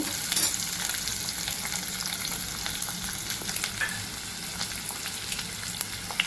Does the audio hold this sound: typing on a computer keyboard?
no